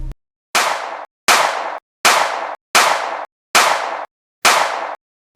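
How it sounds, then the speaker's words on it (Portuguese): Six sharp gunshots, a sound effect for the 1994 shooting of footballer Andrés Escobar, ring out one after another at an even pace, each loud crack trailing off in a short echo, separated by silence. "Então aconteceram os disparos."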